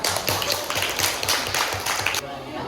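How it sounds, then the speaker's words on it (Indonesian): An audience applauds for a presenting group at an Islamic religious education teacher-training session in Lampung, a dense burst of clapping with steady low thumps that stops abruptly near the end. "Beri tepuk tangan untuk kelompok 2"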